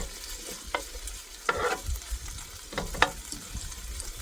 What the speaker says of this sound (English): just frying this off a bit so it gets a bit of extra flavour